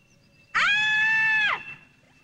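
A single loud, high scream rings out for about a second, sustained and shrill, then cuts off into quiet.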